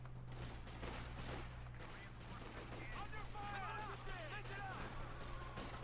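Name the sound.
50 caliber machine gun fire in video game Company of Heroes 2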